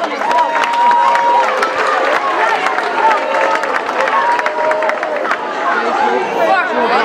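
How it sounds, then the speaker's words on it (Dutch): Applause and cheering from a crowd at a youth U14 football tournament prize ceremony for the top scorer, a dense continuous wash of clapping and chatter at close range throughout. "Geef hem een groot applaus."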